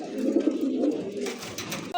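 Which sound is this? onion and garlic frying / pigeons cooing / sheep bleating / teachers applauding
pigeons cooing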